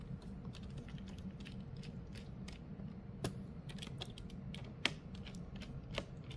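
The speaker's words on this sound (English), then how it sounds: "Okay, we will screw it back." Screws are driven back into a Dell Latitude 3550 laptop, giving faint, close creaks and small clicks over a steady low hum, with a few sharper ticks near the end.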